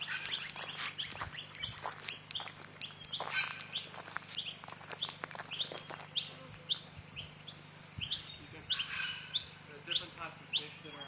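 Birds chirp in Eildon National Park near a lake, with short, sharp, high tweets repeating in quick bursts and close by over quiet surroundings.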